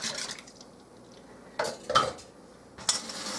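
Bread dough ingredients are whisked in a bowl for milk and honey white bread, with a few brisk bursts of utensil clinking and scraping between quiet pauses.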